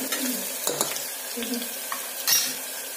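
Onion greens fry in hot oil in a pan, a soft steady sizzle broken by a few scraping stirs and light clinks, close by and without speech.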